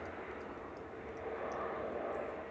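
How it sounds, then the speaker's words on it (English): An Airbus A380 airliner turning onto final approach at Manchester Airport gives a steady, distant engine roar, broad and constant, swelling slightly toward the end with no talk over it. "A380's just turning off base leg."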